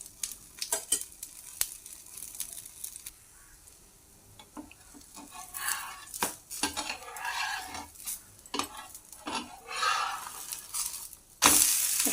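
A thick wheat dosa cooking in oil on a pan, giving a soft, uneven sizzle broken by scraping and clinks of a spatula against the pan, louder near the end.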